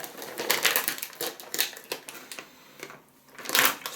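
A snack package is torn and crinkled open, loud close plastic rustling and crackling in irregular bursts with a short quiet pause before a final rip.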